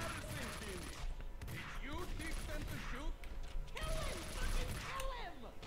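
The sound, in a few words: gunfire in the video game Max Payne 2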